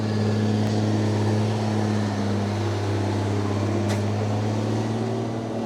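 A big dump truck working on a farm pond dam near a chicken coop, its diesel engine droning steadily with a low, constant hum throughout, fairly close and loud, with no talking.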